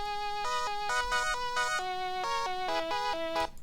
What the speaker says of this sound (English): this is what it sounds like with just the oscillators